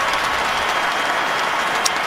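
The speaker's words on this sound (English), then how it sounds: "Crowd reacting to Megan with the finishing touches being ap" Stadium crowd at an NFL football game between the Buffalo Bills and Indianapolis Colts, a broad steady roar and clapping from a large audience, distant and continuous throughout.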